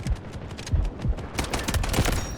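Mini-14 rifle fire in the shooter game Delta Force: rapid, loud bursts of close gunshots. A quicker, denser volley follows in the second half, with no talk over it.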